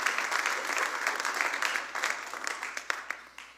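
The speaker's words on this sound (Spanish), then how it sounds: "Cuando le dan un aplauso a ese Rey de Reyes" A church congregation applauding together, a dense wash of clapping that thins out toward the end into scattered individual claps.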